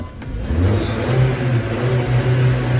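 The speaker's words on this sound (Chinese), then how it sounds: "下边我就进车里面启动，看看能不能一把打着火" A car engine that had trouble starting fires up and revs, a close, loud mid-pitched roar that rises and holds steady, heard alone without talk.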